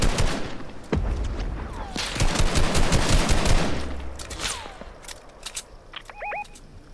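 Video game gunfire in scattered bursts and single cracks, loud and close, with echoing tails between shots and a few short electronic tones near the end.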